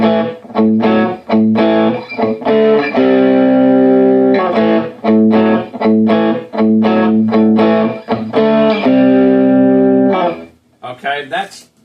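Fender Player Stratocaster played through an MXR 78 Badass Distortion pedal into a Peavey Classic 30 amp, with the tone rolled below half and light gain, chugging rhythmic chords and sustained notes with short gaps, loud and close.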